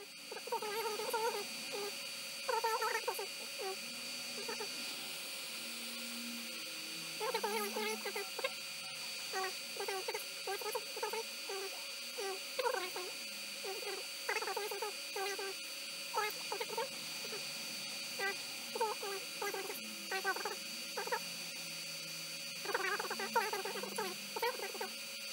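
An Ender 3 Pro V2 3D printer runs a print job, its stepper motors giving off irregular bursts of squeaky, chirping tones over a steady faint hum, moderately close and without talk.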